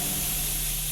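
A sudden short hiss of steam in a horror video game, a steady airy spray sound with a faint low hum beneath, quiet and continuous over about a second.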